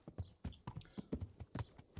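A horse's hooves clip-clop at a steady trotting rhythm in the video game Kingdom Come: Deliverance, a quick even run of soft, fairly quiet hoofbeats with no talking.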